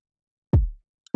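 Kick drum from an Afrobeats production, with a roughly 2 dB EQ brightness boost near 5.6 kHz: one punchy, boomy hit with a short decay, then a second hit beginning at the very end, alone in silence.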